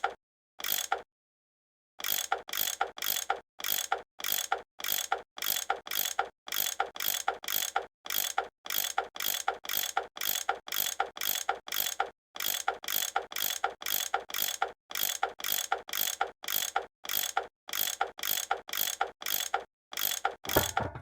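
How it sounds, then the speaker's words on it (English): A tool unscrewing bolts in the Nancy Drew game Last Train to Blue Moon Canyon: a rapid, steady train of loud mechanical ratchet clicks, repeating in quick bursts with short gaps, heard alone. "That tool I saw in the caboose, I bet that's what you use to unscrew these bolts."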